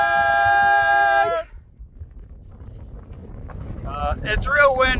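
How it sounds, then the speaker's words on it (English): Strong wind buffets an outdoor mountain spot after a steady tone cuts off, a low blustery roar building until voices break in near the end. "It's real windy."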